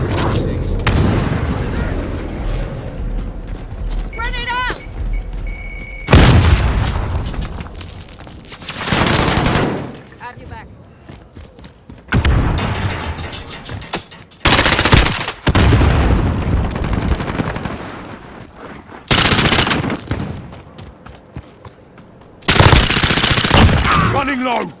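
Loud bursts of automatic gunfire and booming shots from Call of Duty Modern Warfare come in repeated heavy volleys with short pauses between them, mixed with game voice callouts.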